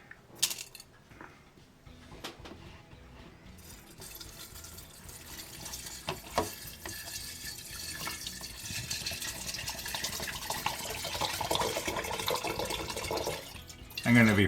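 Liquid is poured through a fine mesh sieve to be reused, a soft, steady trickle and splash that slowly builds and stays fairly quiet throughout.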